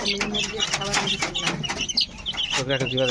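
A crowd of chicks peeping and clucking nearby in busy overlapping calls, with some human voices mixed in.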